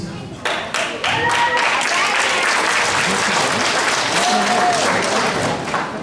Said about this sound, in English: Let's give our applause.